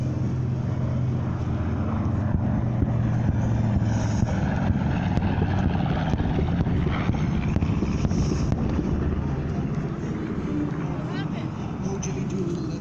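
A B-25 Mitchell bomber flies over an airshow at Nellis in Las Vegas, its piston engines a continuous rumbling drone with wind buffeting the microphone, while people talk over it.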